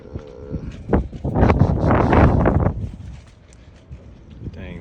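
Strong wind buffets the microphone in rumbling gusts, swelling loudly in the middle and easing toward the end.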